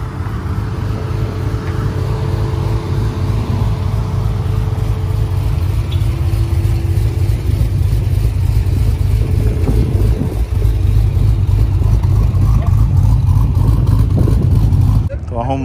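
Car running on ethanol, its engine droning loud and steady with a low rumble throughout and rising revs, under speech-like noise, before cutting off abruptly at the very end.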